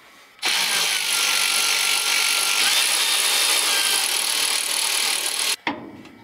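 A power tool whirs continuously for about five seconds while removing 3/8 bolts on a truck during a Turbo 350 tail shaft seal job, then stops abruptly with a short clatter.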